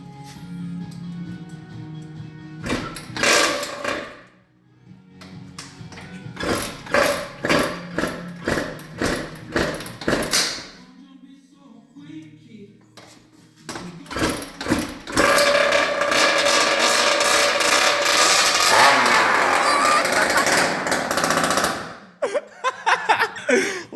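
2-stroke 85 big wheel dirt bike motor fitted in a go-kart with a makeshift fuel tank, loud rattling, sputtering runs that cut out and restart, ending in a sustained revving burst.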